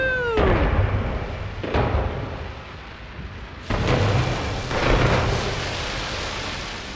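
Fireworks exploding in a space trading video game: several loud, booming bursts spaced a second or two apart, each trailing into a dense crackling rumble that fills the whole stretch.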